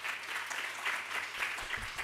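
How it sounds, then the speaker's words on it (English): Audience applause at a symposium on Islamic psychology, a steady, fairly quiet wash of clapping that continues evenly across the moment, heard from within the hall. "Round of applause, please."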